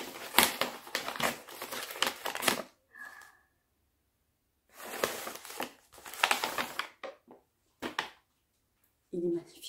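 Wrapping paper on a gift is crinkled and torn open in several short, close bursts separated by pauses, quiet overall, with someone speaking briefly in between.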